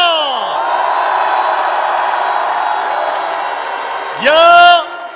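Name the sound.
applause and cheering for the Constitutional Court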